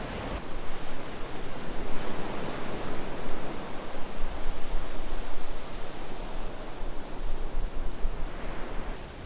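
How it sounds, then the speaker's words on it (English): Waves washing onto a beach in Koh Chang, Thailand, a dense steady roar of surf mixed with some wind buffeting, loud and continuous with no voices. "But yeah, check out this beach."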